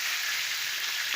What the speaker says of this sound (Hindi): इसको हमने फ्राई करना है।